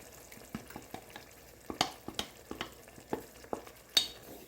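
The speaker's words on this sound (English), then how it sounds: "So I just poured in the second batch and I'm now stirring it." A spoon stirs egg stew frying in coconut oil in a pan, giving a series of soft scraping clicks and light sizzle, close and fairly quiet, with no talking.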